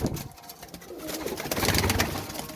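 Painted flying pigeons coo close by in a loft, soft repeated throaty calls over a busy background of wing flutters and shuffling, with no talk.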